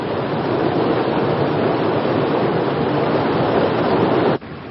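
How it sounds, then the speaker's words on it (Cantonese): A cartoon waterfall roars as a loud, steady, unbroken rush of water that carries on for several seconds before abruptly dropping away at the end. "哎呀，係瀑布啊！"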